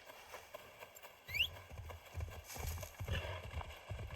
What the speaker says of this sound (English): That's the type of horse I like right there.